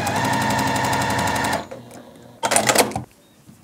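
A sewing machine stitching quilt block pieces for a churn dash block runs in a fast, even rattle for about a second and a half, pauses, then makes a second shorter burst; close and clear, with no talk.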